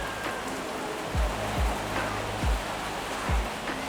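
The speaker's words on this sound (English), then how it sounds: "it's raining pretty hard" Heavy rain pours steadily at a street food stop in Kuala Lumpur, Malaysia, a dense, loud hiss with a few deep thumps breaking through at intervals and no talk over it.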